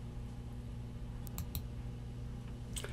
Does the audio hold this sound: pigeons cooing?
no